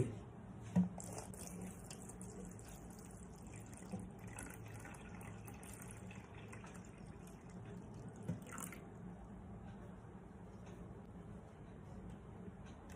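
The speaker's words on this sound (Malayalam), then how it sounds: "വെള്ളം കുറേശ്ശെ തുള്ളി തുള്ളിയായിട്ട് വീഴുന്നത് കാണുന്നുണ്ടോ" Filtered drinking water dripping slowly through a water purifier cartridge into the collection chamber below, a faint, sparse trickle with occasional soft drops over a quiet background.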